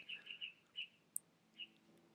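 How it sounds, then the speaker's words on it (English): Faint, distant bird chirps from outside an open window come in a quick cluster of short notes, then a few scattered calls over a quiet room background. "I can hear a bird in the background."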